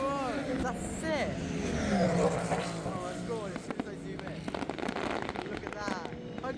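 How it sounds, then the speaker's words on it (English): Sharp fireworks bursts and crackles pop irregularly at a distance at the Le Mans 24 Hours, mixed with whistling streaks and a crowd or voices talking over them. "Hundreds of fireworks."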